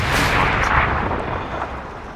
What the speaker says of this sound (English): You just turn the gun there and just shoot it again.